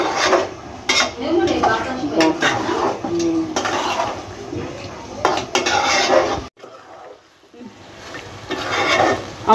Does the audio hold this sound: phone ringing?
no